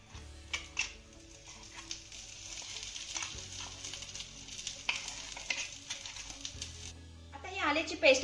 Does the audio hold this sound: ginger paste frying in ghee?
yes